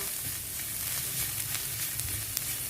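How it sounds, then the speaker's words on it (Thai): Chili paste ingredients dry-roast in a pan with a soft, close crackling sizzle and light stirring scrapes, faint and continuous for a few seconds. "เราจะต้องนำทุกอย่างมาคั่วก่อนนะคะ"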